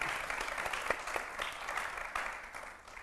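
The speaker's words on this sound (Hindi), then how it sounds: "और इनके लिए तालियां" Audience applause at a Hindi-language debate panel on celebrities, real estate and endorsements: dense, steady clapping from a crowd, continuous and fairly loud throughout without a break.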